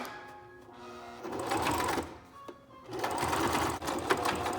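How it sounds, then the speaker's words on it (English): Domestic sewing machine running a zigzag stitch on fabric for a homemade face mask, a close, steady mechanical whirring that starts, pauses briefly, then resumes. "I'm gonna keep it on zigzag for this."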